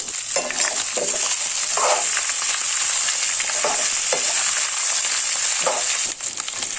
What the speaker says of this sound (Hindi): अभी आलू डाल देते हैं, और इसमें हल्दी नहीं डालूंगी मैं।